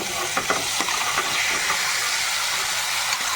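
Boiled taro goes into spices already frying with turmeric and salt, setting off a loud hissing sizzle. A few stirring clicks follow as the hiss settles to a steady frying sound.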